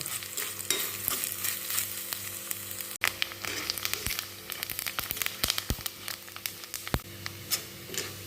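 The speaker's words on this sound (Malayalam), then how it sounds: "ഞാൻ തേങ്ങ നെയ്യിലേക്ക് ഇട്ട് കൊടുത്തിട്ടുണ്ട് നമുക്കിതൊന്ന് വറുത്തെടുക്കാം" Steady crackling sizzle of coconut pieces frying in hot ghee for unniyappam, punctuated by sharp pops and scraping stirs, close and continuous with no voices.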